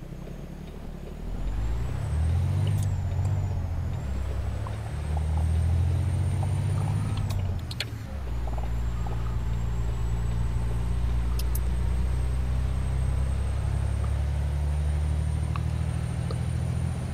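Detroit diesel truck engine in American Truck Simulator, a steady deep drone that rises and falls through gear changes, with a brief sharp hiss of an air brake partway through, no talking.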